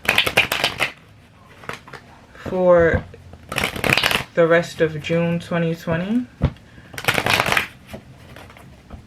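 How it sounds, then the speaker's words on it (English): Tarot cards riffled and bridged in several bursts, crisp ruffling rattles alternating with a person talking between and over them. "All the cards are pre-shuffled, but I do give it another go around on camera"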